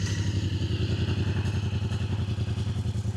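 A 2025 Yamaha MT-07 with its CP2 twin engine runs at a steady low idle, a muffled, even throbbing close by, with no voices.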